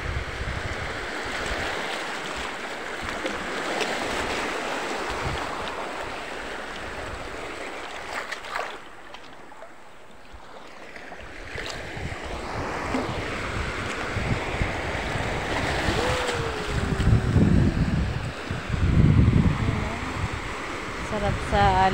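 Ocean surf rolls in at a beach in Mabalon, the broad wash of waves mixing with gusty wind noise on the microphone, swelling and easing over about twenty seconds while people talk faintly nearby.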